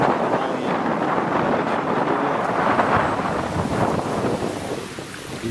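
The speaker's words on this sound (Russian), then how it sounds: "Такой ветерок. Не ветерок, а ветерище." Strong wind blows across the Luga River during a rafting trip, a loud, constant roaring buffet against the microphone that rumbles heavily throughout and eases slightly near the end.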